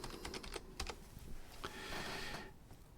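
Rapid clicking of keys on a computer keyboard while text is typed, a quick irregular run of close, crisp taps with brief pauses, then a burst of denser typing near the end.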